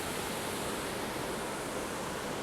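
A powerful Oregon waterfall roars as a dense, unbroken wash of white noise, steady and loud with no variation or other sounds over its short span.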